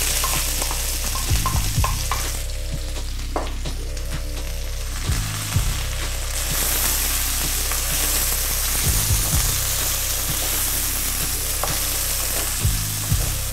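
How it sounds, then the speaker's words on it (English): Onions and spices fry in hot oil in a pan for eggplant bharta. The steady loud sizzle runs continuously, with a spoon stirring and scraping every few seconds. "And then immediately I'm going to add my onions."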